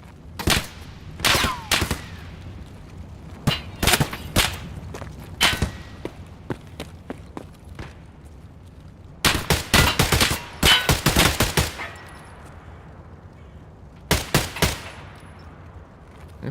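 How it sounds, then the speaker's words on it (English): Bursts of gunfire in Escape From Tarkov, sharp clustered volleys and rapid automatic strings separated by quieter gaps with a few lone shots, loud and close with some trailing off into distance. "Who is shooting there?"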